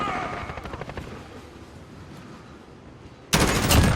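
A new weapon fires in Call of Duty Modern Warfare as a rapid burst of close, loud shots, then a quieter stretch before a sudden heavy volley at the end.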